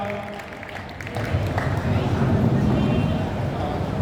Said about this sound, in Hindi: जोरदार तालियां इस परिवार के लिए भी